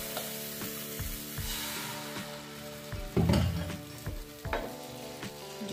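A rice flour pancake sizzles in oil on a hot tawa griddle, giving a steady close frying hiss broken by scraping and stirring sounds, with no talking.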